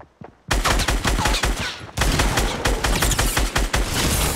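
Rapid bursts of gunfire in Fortnite, loud and close, starting after a brief quiet moment and continuing in dense, overlapping volleys with a short gap partway through.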